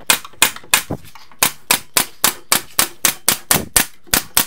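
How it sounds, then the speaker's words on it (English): A staple gun drives 3/4 inch small crown staples into a cabinet back, sounding as a rapid, loud series of about fifteen sharp pneumatic snaps in an even rhythm. "We'll nail the back on by using 3/4 inch small crown staples."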